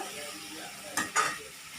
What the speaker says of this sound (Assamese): মই ভাজি আছোঁ।